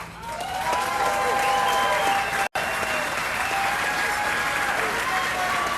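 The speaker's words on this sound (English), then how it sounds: "I'd like to give them a round of applause and recognition as well." At a 2019 polo hall of fame induction ceremony, the audience gives a sustained round of applause for the honorees, with a brief dropout partway through and some voices mixed in.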